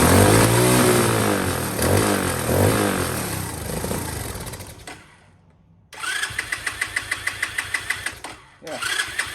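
A small engine running on choke, roaring loudly at first, then cutting out into near silence before it catches again with a rapid, even chugging beat. A voice can be heard under the engine noise.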